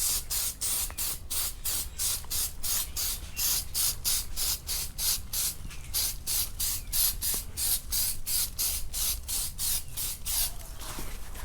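A spray paint can sprays in a rapid series of short hissing bursts onto plastic engine parts, close and even, repeating steadily with no talking.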